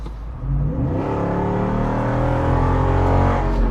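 A Jeep Wrangler SRT392 with its V8 engine accelerates hard, a loud close deep rumble that swells after a brief pause and holds a rising growl to the end.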